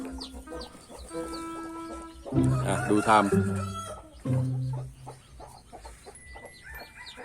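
Chickens near a nest of hatching eggs cluck and give a drawn-out crowing call, close and fairly loud, with someone speaking briefly between the calls.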